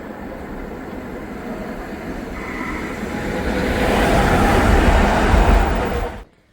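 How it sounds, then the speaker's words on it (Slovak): Yellow trams roll along the Danube promenade in Budapest, a broad rumbling wash of rail and traffic noise that swells louder toward the end before cutting off abruptly. "žlté električky jazdiace okolo vás"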